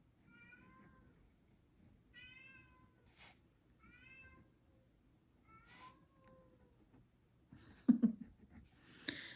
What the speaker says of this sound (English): That poor boy is out there just meowing, having a fit.